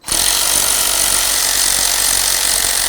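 A power tool runs nonstop on the bolts of a Ford Expedition during a knock sensor replacement. The sound is a loud, harsh, close mechanical whir that starts suddenly and holds steady, with no voices.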